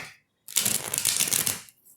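Tarot cards are shuffled once in a quick riffling burst of crisp, rapid flutter, close and fairly loud, lasting just over a second between short quiet gaps.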